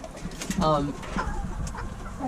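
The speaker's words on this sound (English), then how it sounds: "You can see the pigeons down here." Pigeons in a homestead coop with a nesting box give a short burst of soft, rhythmic cooing close by, followed by faint low calls and shuffling, with some background voice-like murmur.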